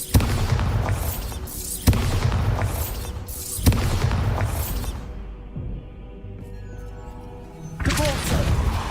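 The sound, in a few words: Bombarda blasting curse explosion in video game Hogwarts Legacy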